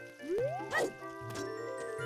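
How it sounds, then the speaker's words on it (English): Watery sound effects from Ocarina of Time play in a short burst, a rising bloop followed by a splashy squish and soft drips, with game music running underneath. "Oh, the water."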